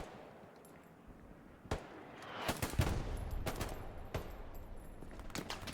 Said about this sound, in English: Shooting long range.